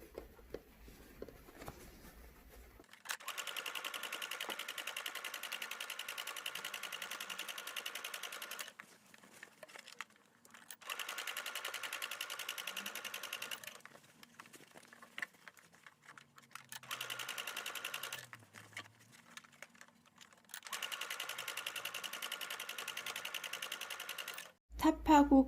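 A sewing machine stitches a hat brim to its crown in three or four steady whirring runs separated by quiet pauses, with brief fabric handling between runs, and a few clicks at the end.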